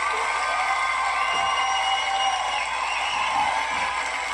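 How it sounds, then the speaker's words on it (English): A dense crowd roars and cheers continuously with steady broadband noise, a canned applause-and-cheering effect, loud and unbroken throughout. "I'm going to applaud me for that"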